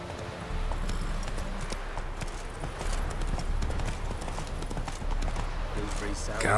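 Steady clip-clop of a horse's hooves at a trot in The Witcher 3, rhythmic and close, running the whole time with a voice speaking over it.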